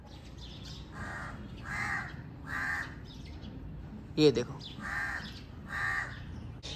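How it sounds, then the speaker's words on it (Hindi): A crow caws repeatedly in an even rhythm, about six harsh calls, with a brief spoken phrase partway through and soft background noise. "ये कौवा रोज आता है, टैं टैं टैं टैं शुरू कर देता है"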